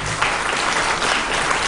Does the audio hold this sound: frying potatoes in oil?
no